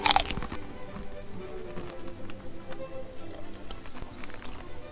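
Fruity Pebbles cereal crisps crunched as a whole handful is chewed. A burst of crackling opens the chewing, followed by steady, close, rhythmic crunches with light crackles throughout.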